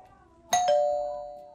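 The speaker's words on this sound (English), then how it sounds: "Doorbells work." A doorbell in the horror game Elevator Zero rings once with a two-note ding-dong, bright and close, its tone ringing on and slowly fading.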